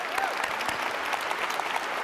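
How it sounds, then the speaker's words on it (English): Audience applause for public sector workers at the Cleveland mayor's State of the City address, a steady wash of many hands clapping that fills the whole short stretch at moderate level, with a faint voice briefly audible beneath. "So let's give them a big round of applause if we can."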